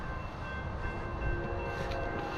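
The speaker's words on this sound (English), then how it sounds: "let's make a quick jog up here and let's catch the train." A train passes with a steady, loud rumbling roar of wheels on rails and a faint sustained high whine, continuous throughout with no talk.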